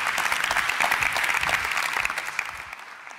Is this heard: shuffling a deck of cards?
no